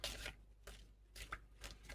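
A deck of playing cards being shuffled during a tabletop dungeon card game, with several close, crisp riffling bursts separated by brief pauses.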